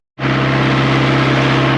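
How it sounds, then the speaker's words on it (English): A loud, steady John Deere X9 combine harvester engine drones continuously after a sudden start during a wheat harvest, with a constant low hum and broad rumble and no voices. "Okay, engine's a little loud."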